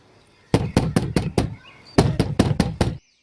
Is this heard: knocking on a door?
yes